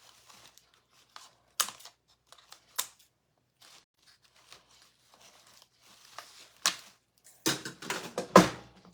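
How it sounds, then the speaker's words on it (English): Zip ties being trimmed on a fall sign project, giving a few sharp, separate snips with crinkling handling noise between them, ending in a louder cluster of cuts close by. "I'm going to go ahead and cut off the back pieces of my zip ties."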